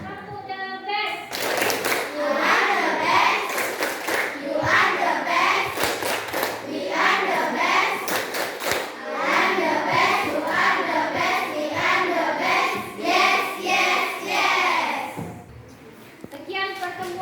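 Schoolchildren in a classroom chant and clap the rhythmic 'tepuk the best' routine, with bright, repeated clusters of sharp claps in a steady pattern under their loud group voices for a sustained stretch.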